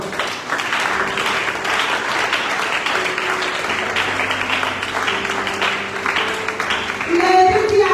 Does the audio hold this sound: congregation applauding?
yes